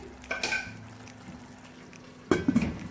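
A lid goes onto a cooking pan of chicken jalfrezi with two metallic clinks, one light and one sharper rattling clatter, over a quiet simmer with no talking.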